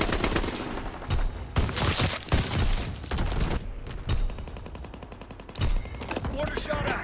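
Mortar blasts and gunfire in the World War II shooter Call of Duty: WWII, with rapid bursts of automatic fire and heavy booming impacts in a loud, chaotic battle mix, a game announcer voice talking over it.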